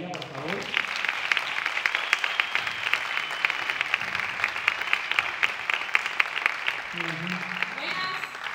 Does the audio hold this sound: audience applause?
yes